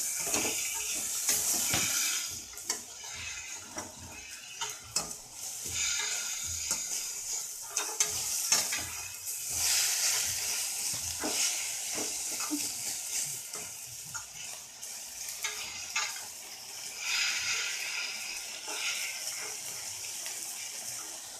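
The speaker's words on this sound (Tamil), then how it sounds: "நல்லா வதங்கிட்டுருக்கு." Mint leaves sauté in a hot pan for mint chutney, giving a steady crackling sizzle with scraping stir strokes throughout, fairly close and with no voices.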